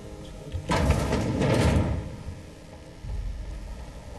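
A video game door slides open with a loud rumbling swoosh that swells and fades over about a second, then a softer mechanical thud follows against a quiet background.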